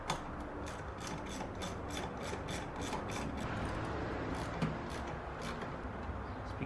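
A ratchet wrench clicks in fast, even bursts as it backs a 10mm nut off a Dodge Charger Hellcat engine, close and fairly quiet with no talking.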